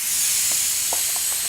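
A motorcycle inner tube from a Yamaha V-Star 1100 front tire lets out a loud, continuous hiss of air as its valve core is removed, with a few faint clicks under it.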